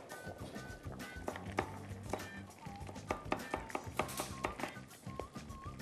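Knife chops five garlic cloves on a board for a lentil soup, an irregular run of sharp close taps, fairly soft, with faint voice traces under the cutting.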